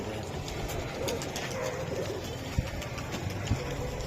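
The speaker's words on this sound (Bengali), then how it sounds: "এই যে বন্ধুরা দেখেন একদম গুত্তুস গাত্তুস কবুতর" Racing pigeons coo softly in a loft, with steady low murmuring calls over a constant background hum and a couple of faint knocks.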